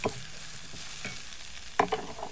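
Grated carrot and zucchini are stirred in a hot pan while making lasagna, a soft continuous sizzle broken by a few close spoon scrapes, strongest near the end, with no talking.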